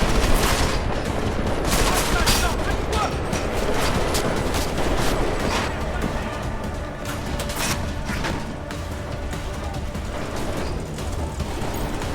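Sustained gunfire in the video game Deus Ex: Mankind Divided, dense rapid shots and bursts overlapping continuously at high volume, with a faint voice briefly under the barrage.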